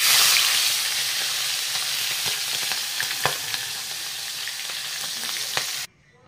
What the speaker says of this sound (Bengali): তেলটা ভালো করে গরম হয়েছে বন্ধুরা, এবার দিয়ে দিব মাছগুলো।